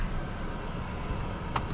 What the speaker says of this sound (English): let's go for a drive in this 2024 Polestar 2